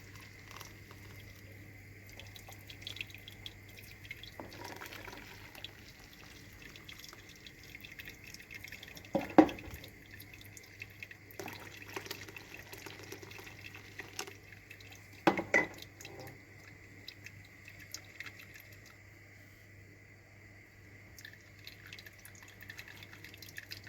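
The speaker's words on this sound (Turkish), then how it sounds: "Kosamızı süt süzeyle güzelce süzelim." Homemade black mulberry sherbet runs through a milk strainer, giving faint, steady trickling with scattered drips and a couple of sharper taps against glass or metal over a low hum, with no talking.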